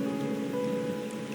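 Steady rain falls in the Wuthering Waves game, an even close hiss with a low rumbling undertone, no voices.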